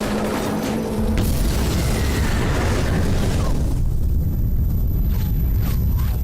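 A deep, rolling explosion from early video game gameplay booms continuously, a dense low rumble with crackling debris that carries on for several seconds without letting up.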